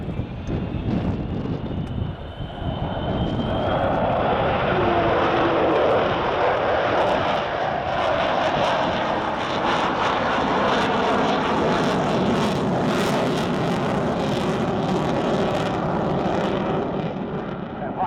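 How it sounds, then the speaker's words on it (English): The Avro Vulcan XH558 bomber roars during an air day display at Yeovilton, its jet engines giving a loud, sustained, broadband rumble that builds and holds steadily, with a faint rising whine near the start. "that enormous roar from those engines setting all the car alarms off"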